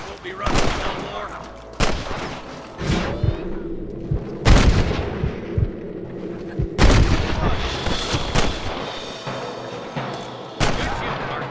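Gunshots ring out in a Western cowboy video game, several sharp, loud reports spaced irregularly with echoing tails, and voices talk between them.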